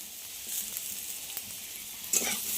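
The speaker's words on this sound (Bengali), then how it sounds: "আলুর সঙ্গে পেঁয়াজটা খুব ভালোভাবে ভেজে নেব" Potatoes and chopped onion frying in a pan, a steady soft hiss of oil with a few light stirring scrapes and a louder sizzle burst near the end, no talking.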